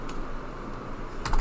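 A few quick keystrokes on a computer keyboard while entering a site name, soft clicks spread across a quiet moment with a slightly louder burst of taps near the end.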